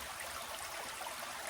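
Rushing water from a waterfall and stream in Cregagh Glen at Lisnabreeny, a dense, steady broadband roar filling the scene, close and constant with no voices.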